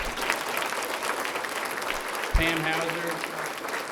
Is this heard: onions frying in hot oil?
no